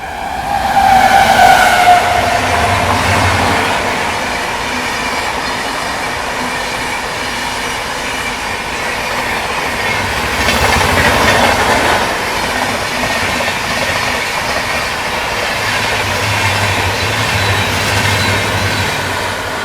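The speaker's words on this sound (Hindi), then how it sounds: "ये आ गई तेजस राजधानी एक्सप्रेस पैरेलल हाई स्पीड में ओवरटेक करने" A steady rumble of the Tejas Rajdhani Express overtaking at high speed on a parallel track, with rail noise and clickety-clack swelling and fading as carriages pass, no voices.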